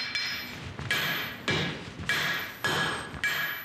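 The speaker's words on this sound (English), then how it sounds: "So it's turned to the left, diagonal blows." A blacksmith's hammer strikes hot steel on an anvil while forging a pair of tongs, with diagonal blows shaping the shoulder: about six sharp, ringing metallic hits at a steady, deliberate pace, close and loud with no talk.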